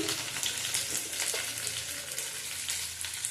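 Bhetki fish bones fry in hot oil in a kadai, giving a steady, dense sizzle that runs continuously throughout at close range with no voices.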